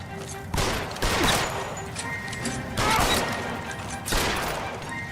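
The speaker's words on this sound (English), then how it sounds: "how many bullets did I have to waste on this guy?" Repeated heavy bursts of gunfire in the 1940s Los Angeles detective game L.A. Noire, loud volleys of shots coming in three waves with brief lulls between them, no speech over them.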